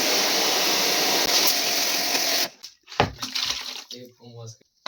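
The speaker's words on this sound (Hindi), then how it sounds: "मशीन को स्टार्ट करते हैं और एक बाल्टी में पानी डालते हैं, मशीन को इजीली स्टार्ट कर देना।" A pressure washer sprays water in a loud, steady hiss while an air conditioner is being serviced, then cuts out abruptly, after which someone speaks amid clattering handling sounds.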